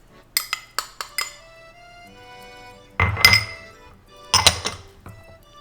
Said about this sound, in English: And you just gotta mix those 3 dry ingredients together